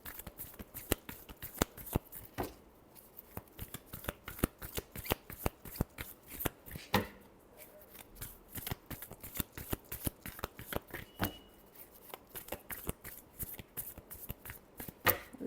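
Tarot cards are shuffled up close in quick riffles and taps, a steady run of crisp card slaps with a short pause in the middle.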